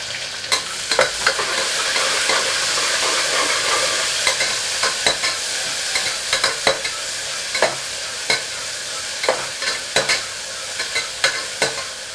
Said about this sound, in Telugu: ఇది ఫ్రై అవుతూ ఉంటుంది.